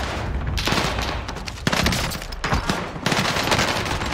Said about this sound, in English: And now I'm just getting shot in the back.